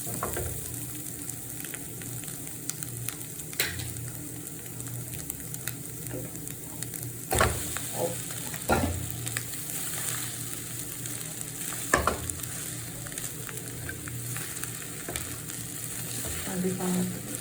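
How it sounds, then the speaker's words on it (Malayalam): Maggi noodles stir-fried in a pan with onion and egg give a steady, close sizzle, broken by sharp clinks and scrapes of a utensil against the pan, with no talking. "മാഗിയും കൂടി ഇട്ട് നമുക്ക് ചിക്കി നല്ലപോലെ ചിക്കിയെടുക്കാം."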